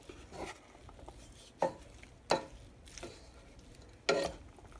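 A utensil stirs ground beef with olive oil in a pan, giving a few sharp scrapes and knocks against the pan over a faint sizzle, quiet and close with no talking.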